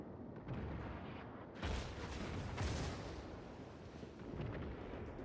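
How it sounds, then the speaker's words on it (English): Naval guns from several friendly ships fire at a battleship in World of Warships, heavy booming blasts and rumbling volleys, loud and close with a dense burst after the first second, no talk. "there are a lot of friendly ships firing at that Wyoming"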